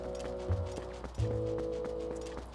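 Horse hooves clip-clop on a town street in the Wii game Twilight Princess, a loud, steady trotting rhythm heard over sustained background game music.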